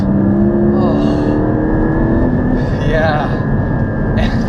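A Porsche 718 Cayman GT4's engine drones steadily and loud while driving, with rising revs and shifting tones over constant road and wind noise throughout.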